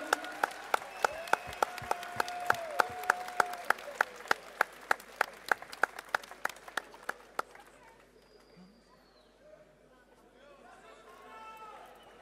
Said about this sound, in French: On peut les applaudir très fort tous les deux.